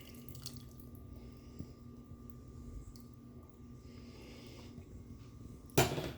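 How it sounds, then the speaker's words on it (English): An oil, water and seasoning marinade is poured over venison backstrap steaks in a kitchen, a soft, steady trickling that stays faint throughout and ends with a brief sharper splash or clatter. "You mix the seasoning in with the oil and water and just pour it on top."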